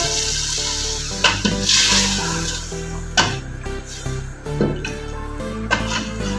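Water, about one and a half cups, poured into a pan of masala that has been fried until the oil separates. There is steady sizzling and bubbling with a few clinks of a utensil, close and continuous, and no talking.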